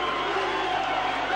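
A stadium crowd roars at a 1988 Lang Park rugby league match between the Brisbane Broncos and a New Zealand XIII, a steady dense wash of cheering that stays loud and unbroken throughout.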